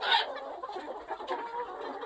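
Several chickens cluck and murmur softly nearby, a busy, continuous chatter of short calls.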